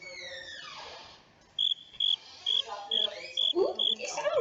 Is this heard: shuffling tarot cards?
no